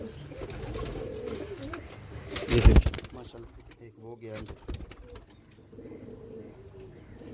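Pigeons coo softly in the background while someone talks nearby, with a brief burst of wing flapping or clatter partway through.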